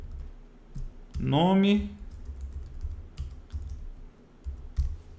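Keys clack on a computer keyboard while editing a Microsoft Word document, with a few separate keystrokes for deleting and pressing Enter spread through the clip, and a person speaks briefly between them.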